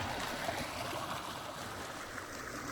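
A small creek flows steadily near a trout-fishing spot before sunrise, making a continuous, close rushing and burbling with no other sound.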